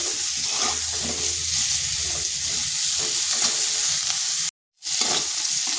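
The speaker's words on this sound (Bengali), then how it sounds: "ফুলকপিগুলো আলাদা করে ভেজে নিচ্ছি" Cauliflower florets fry in hot oil in a kadai with a dense, continuous sizzle and occasional stirring. The sound is close and loud, with one brief cut to silence near the end.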